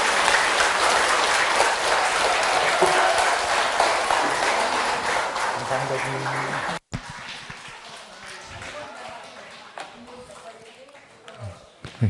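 An audience at a Buddhist temple's seasonal presentation event gives strong, dense applause for several seconds, which cuts off abruptly into a quieter room with scattered faint sounds and light noise.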